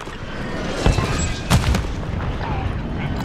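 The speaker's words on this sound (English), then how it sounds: "Oh, he shot me." Video game gunfire: a few sharp, loud shots rise out of a noisy battle mix with rumbling booms behind them.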